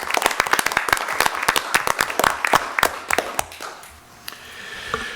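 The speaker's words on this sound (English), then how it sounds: "Can we have a round of applause" A small audience at a regular Board of Education meeting claps. The separate, distinct hand claps are loud and close at first, then thin out and fade to a few scattered claps after about four seconds.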